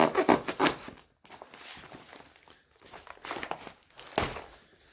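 Tape is cut and peeled away from a Cold Weather MRE ration package, heard up close as bursts of crinkling plastic, rustling and scraping with short pauses between.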